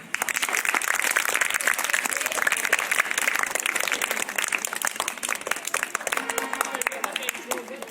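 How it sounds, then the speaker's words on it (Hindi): Audience clapping at a school quiz programme in a high school hall, a steady dense applause running the whole time at moderate volume and thinning slightly toward the end. "तालियां बजाइए"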